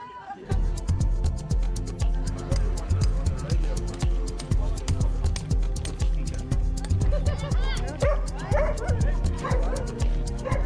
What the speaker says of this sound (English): Straight away, it's clear that there are a lot of dogs.